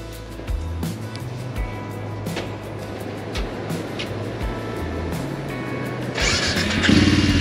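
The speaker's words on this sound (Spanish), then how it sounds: "Pues ahora no me arranca la moto." A motorcycle's starter cranks repeatedly in short, uneven bursts without the engine catching, close and fairly loud against rainy outdoor background noise.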